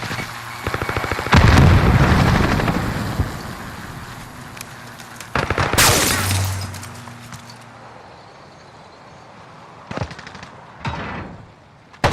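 Frag grenade blast and gunfire in Call of Duty, heavy booming bursts early and around the middle followed by sharp, isolated shots near the end, loud and close with no talking over them.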